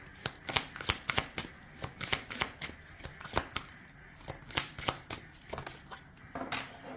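Oracle cards are shuffled close by in quick, rhythmic riffling bursts, soft and crisp, with no speech.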